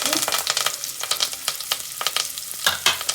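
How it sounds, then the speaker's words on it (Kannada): Mustard seeds and curry leaves crackle in hot oil with a dense, rapid spatter of sharp pops over a continuous sizzle. Loud and close throughout, with no talking. "ಅದಾದಮೇಲೆ ಸ್ವಲ್ಪ ಈ ಥರ ಕರಿಬೇವು ಹಾಕ್ಕೋಬೇಕು, ಚಟಪಟ ಅಲ್ಲಿ."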